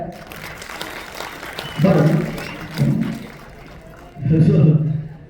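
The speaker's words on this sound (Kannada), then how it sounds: "ಜೋರ್ ಚಪ್ಪಾಳೆ" Applause swells from a stage-event audience as a dialogue writer is called forward at a Kannada film function, rising in waves beneath a speaker's amplified voice.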